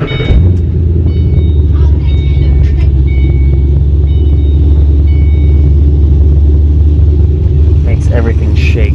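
A cammed Ford Mustang GT engine heard from inside the cabin gives a deep, loud, continuous rumbling idle that holds steady throughout, with faint interior rattles on top.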